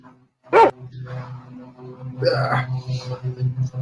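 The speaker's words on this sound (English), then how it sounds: "Oh my God, dog." A dog gives one sharp, loud bark near the start, followed by softer yips and whimpers under a steady, low rhythmic hum and brief background chatter.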